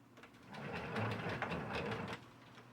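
A hand-cranked yarn ball winder turns for a couple of seconds, giving a close, soft, uneven whirring rattle that swells and fades with the cranking.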